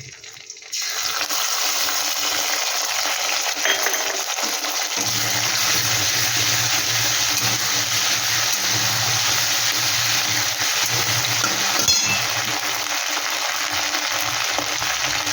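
Rice fries in a pan with a loud, steady hiss that starts abruptly and holds for the whole stretch, a low rumble beneath and faint stirring scrapes mixed in, without speech.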